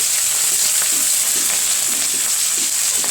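Onion, green chilli and ginger fry for upma in a loud, continuous, dense sizzle of hot oil, a close and steady hiss with faint stirring taps beneath it.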